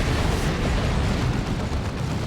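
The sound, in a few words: explosions in a video game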